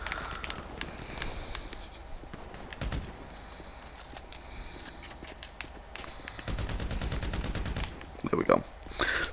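Sniper rifle shots ring out during Grand Theft Auto V online play, sharp cracks spread across the clip with a cluster of quicker shots near the end, heard under low background noise.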